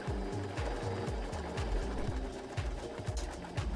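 A sewing machine stitches a small loop made from linen fabric scraps, running in steady bursts of rapid needle clatter that stop and start several times, close and fairly loud with no voices.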